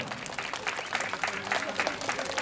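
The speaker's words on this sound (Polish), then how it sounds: "Jeszcze tych braw trochę dla zespołu tanecznego" Steady, dense applause from a festival crowd at the Dni Narola town days and Galician fair, cheering a dance group. The clapping is fairly loud and continuous throughout, with no distinct voices above it.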